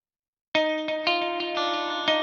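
A clean, chimey split-coil electric guitar with heavy reverb and long delay rings out after a short silence, strummed chords blooming and trailing, repeated attacks layered over a sustained wash.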